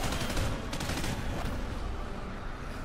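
Rapid gunfire rattles in the video game Call of Duty Ghosts Extinction, a steady stream of shots over loud battle noise with several sharper bursts early on.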